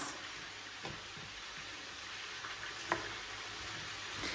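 Pork fries in a pot for Uzbek-style plov with a steady, even sizzle and a few faint pops and clinks, and no one speaking.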